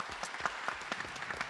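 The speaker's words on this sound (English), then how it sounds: "Please give our candidates and moderators one last round of applause." Audience at a Louisville mayoral candidates' public forum gives candidates and moderators a final round of applause, a faint, steady patter of many hands clapping.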